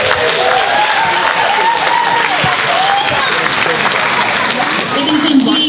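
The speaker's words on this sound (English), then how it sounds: "It is indeed worthy of applause." A school audience at a performance of the musical Oklahoma! applauds loudly and continuously, with crowd cheers mixed into the dense clapping.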